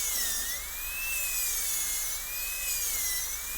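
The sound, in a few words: dental drill burr cutting into tooth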